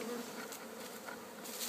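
Honeybees in a busy beehive make a constant close-up buzzing hum that wavers slightly in pitch and loudness throughout, with no talk over it.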